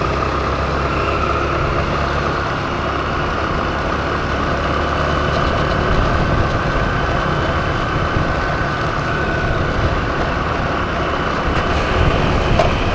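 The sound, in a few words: homemade mini Royal Enfield bike with scooter engine riding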